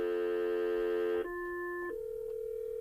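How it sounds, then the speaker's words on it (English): Intercom ringing, a sustained electronic buzz tone that shifts abruptly to a thinner pitch and then a steady single tone, close and clear with no talking. "Intercom, it sounds like."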